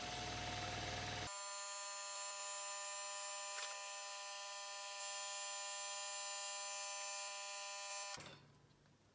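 An industrial sewing machine winds a bobbin under foot-pedal control, producing a loud, steady electric whine with a constant buzzing hum that holds evenly for several seconds, then cuts off and fades away.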